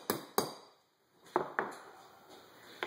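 A metal tool taps a bolt catch into an AR-style lower receiver with the Little Crow Gunworks bolt catch assembly tool: several sharp, close, ringing metallic taps in irregular pairs, separated by quiet gaps.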